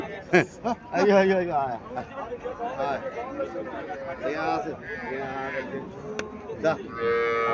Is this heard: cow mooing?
yes